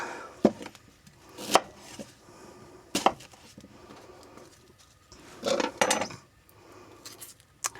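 A knife chops an onion on a board in a handful of separate sharp strokes, spaced irregularly with quiet gaps, and a short cluster of quicker cuts near the end.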